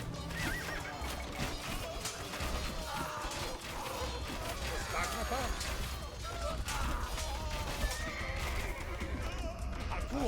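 Horses neigh and whinny amid a busy battle scene in Age of Empires II: Chronicles: Battle for Greece, with hoofbeats, clanking mechanisms and crashes under shouted voices.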